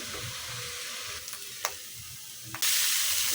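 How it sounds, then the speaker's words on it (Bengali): Spices and salt frying in a pan for an egg dish, a steady close sizzle with a few spatula taps, swelling into a louder, brighter hiss near the end. "মশলা ভাজা হয়ে গেছে"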